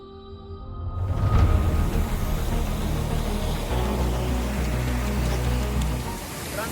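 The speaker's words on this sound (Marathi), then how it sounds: "ओढा आहे खाली" A small stream runs beneath a little footbridge near a temple in natural surroundings, giving a steady, close, broadband rush of flowing water that starts abruptly and then continues evenly throughout.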